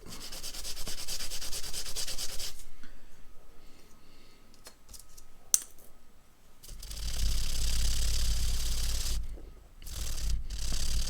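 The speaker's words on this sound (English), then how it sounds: "That works really good on the magnet against the Scotch-Brite." A Scotch-Brite pad scrubs hard against the magnet from a Holley NH carburetor for a Model T, making loud, close abrasive rasping in two long bursts separated by a quieter pause.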